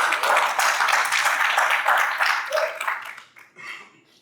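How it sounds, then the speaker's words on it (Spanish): A class applauds together in steady, fairly close clapping that fades out after about three seconds, leaving a few scattered claps. "Muy bien, un aplauso, Mara, por favor."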